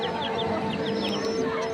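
A chicken clucking close by, a quick run of short rhythmic clucks over a steady hum, with faint higher bird calls in the background.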